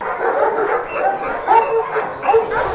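A dog barks and yips in short repeated bursts, fairly close and loud, with a whimpering edge between barks indoors.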